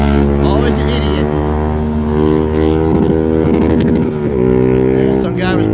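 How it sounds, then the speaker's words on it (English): A motorcycle engine roars steadily nearby as a rider holds a wheelie on an off-road trail in southern Colorado, its loud tone rising and falling over several seconds with a brief dip in the middle. "some guy was popping a wheelie on a motorcycle"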